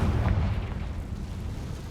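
A Confringo fire spell in Hogwarts Legacy detonates as a deep, rumbling blast that swells at once and then slowly rolls away.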